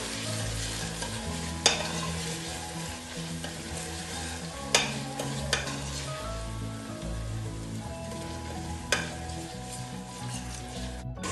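Oil sizzles and fries in a cooking pan while making domoda, a Gambian peanut butter soup, as a steady close crackle with a few sharp pops and clicks over a low background hum.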